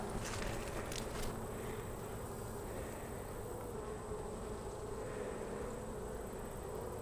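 Honey bees buzz around an open hive during an inspection. The buzzing is a faint, steady drone with soft rustling and handling noises mixed in, and nothing else stands out.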